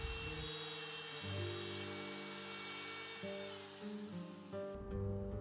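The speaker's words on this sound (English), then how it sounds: "I switch to a 1/4 inch bit and start to cut the rails for my doors." A wood router fitted with a 1/4 inch bit cuts door rails, a high, steady whine whose pitch shifts as the cutter bites into the wood, fairly faint and without talk.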